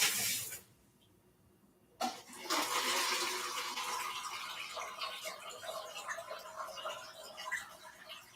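Water pouring or running, starting abruptly after a quiet gap and continuing as a bright, splashy, moderately loud stream for several seconds.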